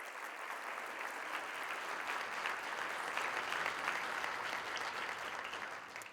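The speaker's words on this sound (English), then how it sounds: "So please give them a round of applause." A conference audience at a mayors' summit gives a sustained round of applause, an even, continuous patter of many hands at moderate distance, swelling slightly before tapering at the end.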